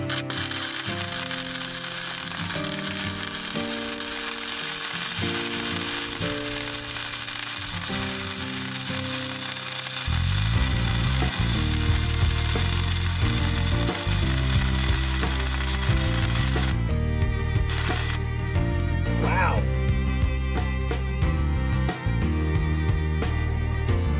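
Welding shock mounts onto an expedition trailer axle: a continuous crackling arc hiss, with a louder, lower-pitched buzzing section partway through and scattered pops toward the end.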